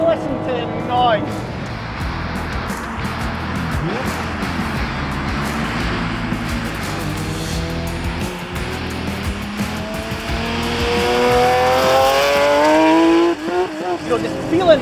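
A Tuthill Porsche 911K driven hard on a track, engine roaring steadily with rising revs toward the end, heard from inside the car with a person talking over the engine noise and some tyre noise.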